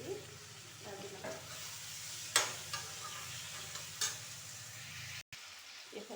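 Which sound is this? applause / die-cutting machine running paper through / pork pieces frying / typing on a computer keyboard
pork pieces frying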